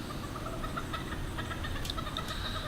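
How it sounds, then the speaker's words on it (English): Chickens scratch and cluck softly in an outdoor morning run while foraging for bugs, with faint scattered clucks over a steady, busy background. "early in the morning the chickens like coming out here getting the fresh bugs."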